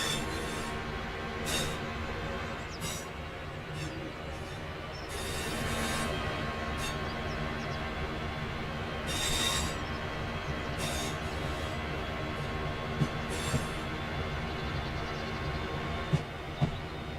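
Train rolling past in the Train Simulator video game, a steady loud rumble with metallic rail hiss and a few brief squeal-like bursts over seventeen seconds, no speech.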